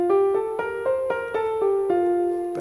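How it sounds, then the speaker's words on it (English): A major scale played as single melodic notes on a clean, sustained pitched instrument, about eight evenly spaced notes stepping through the scale, clear and close with no talk. "a major scale sounds like this"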